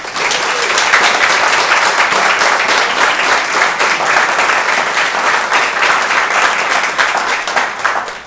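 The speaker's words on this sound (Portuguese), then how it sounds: "Uma salva de palmas para essa igreja." A church congregation bursts into loud, sustained applause, a dense wash of many hands clapping that fills the room evenly for several seconds before tapering off at the end.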